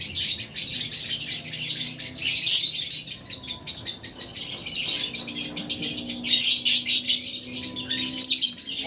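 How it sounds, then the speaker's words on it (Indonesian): Swiftlets call among other birds at a lovebird repair place: dense, high chirps and twittering in repeated bursts, loud and close, with squawks mixed in and no talking. "Nah itu walet, yang bunyi itu walet."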